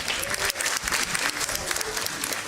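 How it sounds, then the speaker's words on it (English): A forum audience claps steadily for a participant, a dense, close burst of applause with no voices over it, lasting a couple of seconds. "please clap for her"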